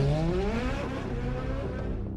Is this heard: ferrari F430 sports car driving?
yes